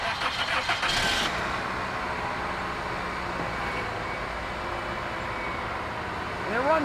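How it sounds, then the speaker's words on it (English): A 1998 Toyota Corolla engine cranks briefly and catches, then settles into a steady idle, fairly close and continuous, with a faint voice at the start. "So it starts right up."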